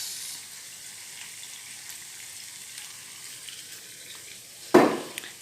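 Nasi goreng rice with soy sauce fries in a hot pan, a steady, fairly quiet sizzle that continues throughout, broken near the end by a sudden louder scrape and hiss as the rice is stirred.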